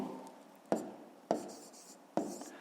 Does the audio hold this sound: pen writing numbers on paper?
yes